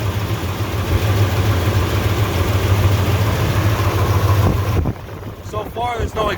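A 1964 Mercury Marauder's FE 390 V8 with Tri-Y headers idles with a steady, loud low rumble that suddenly drops away, followed by faint wind and light handling noises.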